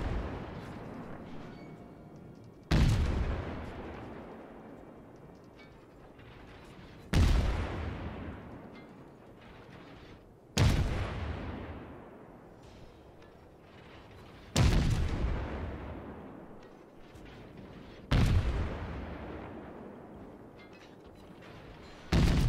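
Naval guns of the cruiser Königsberg fire in World of Warships, six heavy booming salvos spaced every few seconds, each a sharp loud blast that rumbles and decays slowly into the next.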